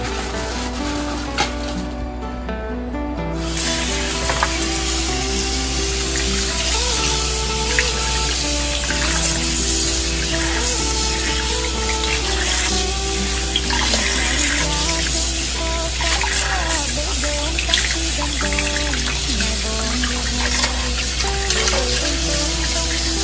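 Tap water runs continuously into a sink while pork organs are washed, a loud, close, steady rush with faint clatter, the flow briefly cutting in at the start.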